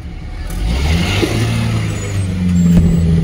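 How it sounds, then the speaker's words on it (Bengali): Steady road noise and a low engine hum from a car driving along the Comilla–Chandpur highway, loud and continuous with a slight swell near the end and no talk. "এখন এই কুমিল্লা চাঁদপুর মহাসড়কে ড্রাইভিং করবে আজকে"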